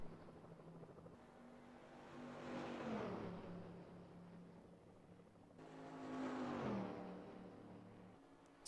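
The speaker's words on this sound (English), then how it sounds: "let's listen to the sound of this car as it races down the backstretch to get up to speed" A race car in the NR2003 racing game roars down the Daytona backstretch in two long, loud passes, its engine pitch rising and swelling to a peak and then falling away, with no talk over it.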